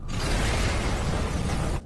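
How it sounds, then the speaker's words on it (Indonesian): A sudden, loud, rumbling burst with debris-like crackle that sustains for almost two seconds before cutting off abruptly. "terjadi ledakan bom di sana"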